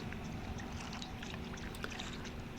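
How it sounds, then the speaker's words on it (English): Kayak paddling on Roanoke Sound, soft watery swishes and drips from the strokes over a faint steady outdoor hiss, quiet and continuous. "Here I'm paddling out into the essentially what is the Roanoke Sound to go look for some redfish and some speckled trout"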